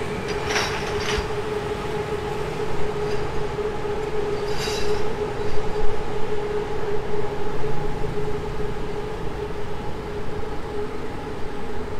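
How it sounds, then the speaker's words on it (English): A BTS Skytrain passes on the elevated line at Chong Nonsi in Bangkok, a loud steady rumble with a tonal whine and faint wheel squeal, heard alone with no talk. "And you can see the BTS train."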